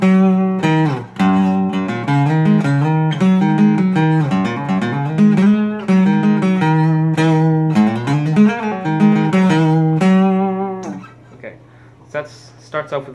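Acoustic guitar carrying on through the solo of a song, fast picked notes and bends ringing close and loud, before the playing thins out into a few scattered notes near the end.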